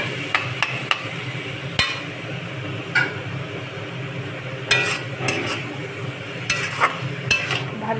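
Spices are sautéed in oil in a pan with a spatula, giving a low steady sizzle broken by sharp scraping clicks and taps, some in quick bursts, close and fairly loud with no talking.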